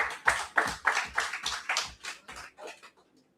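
Audience at an annual general meeting clapping in a short, loud burst of about a dozen distinct claps that slow and fade away to quiet.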